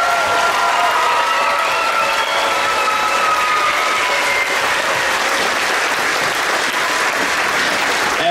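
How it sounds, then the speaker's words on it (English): A school audience gives sustained, dense applause for middle school students at a winter concert, loud and continuous with no pauses. "Let's give all of our students one more round of applause."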